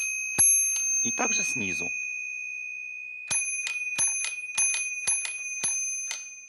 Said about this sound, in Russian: При нажатии клавиши, вот мы, да, молоточек срабатывает и ударяет по такому колокольчику.